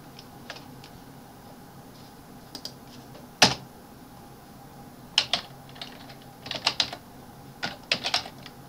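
Keys on a computer keyboard click in short irregular bursts, a lone sharp tap early followed by quick clusters of typing over a faint background hum.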